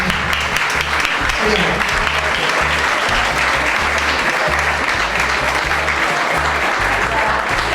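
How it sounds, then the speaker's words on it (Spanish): An award ceremony audience gives sustained applause, thick continuous clapping that stays loud and even for several seconds, with a voice talking over it. "vamos a pediros que les deis un aplauso"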